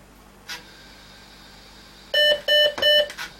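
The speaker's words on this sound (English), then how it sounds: "again we get beep beep beep" An Amstrad PC1512 computer sounds three short, loud electronic beeps in quick succession at power-up, preceded by a soft click and faint background hum.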